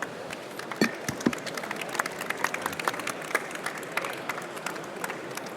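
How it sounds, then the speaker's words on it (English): Audience applause for a conference panel at the close of a session, heard as a steady spread of claps at moderate loudness with scattered louder individual claps throughout. "And a round of applause, please."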